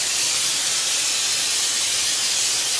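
Steady, loud airy hiss of Raptor Liner bed liner with traction compound being sprayed over the bed floor and tailgate of a 2022 Ford F-150, continuous and unbroken throughout with no talk.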